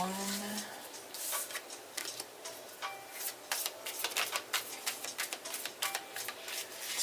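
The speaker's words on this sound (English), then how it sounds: "do a few more shuffles here" Tarot cards being shuffled by hand, a run of crisp riffling and slapping bursts at close range, irregular in rhythm and fairly quiet, with brief pauses between flurries.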